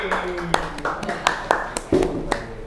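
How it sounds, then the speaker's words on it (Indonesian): Hands clapping among a small group of people, a handful of sharp separate claps spaced irregularly, heard close and mixed with background talk and voices. "Tepuk tangan buat Lord Hari"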